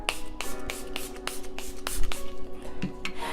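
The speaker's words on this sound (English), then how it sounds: "I'm just going to go ahead and set it with setting spray" Makeup setting spray misted onto the face, heard as a series of short, crisp spritzes repeating at an irregular pace, fairly close and moderately loud with no talking.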